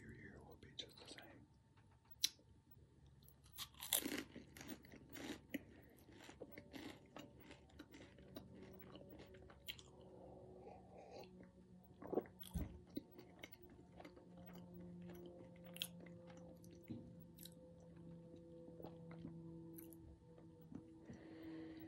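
Crunchy rice cakes topped with cheddar cheese being bitten and chewed close to the microphone, with repeated crisp crunches and soft mouth sounds under quiet whispering.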